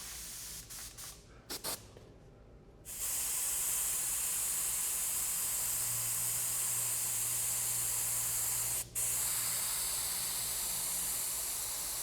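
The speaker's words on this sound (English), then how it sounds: "I'm actually painting the blue vinyl right now, and I'm letting the overspray actually hit the door." A spray gun lays paint over blue vinyl on a car door, opening with a few short test bursts, then a long, steady, loud hiss that runs for about nine seconds with one brief break.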